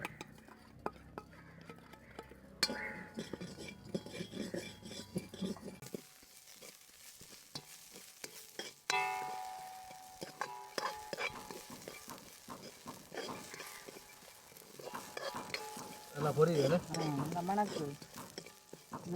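Mustard seeds frying in hot oil for a rava upma tempering, heard as a steady sizzle with bursts of crackling and popping plus a spoon stirring the pan, growing busier toward the end.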